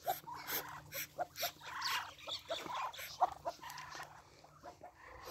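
Muscovy ducks kept at a home in winter fight, letting out faint, irregular hisses, scuffles and bursts of calls, with short gaps between them.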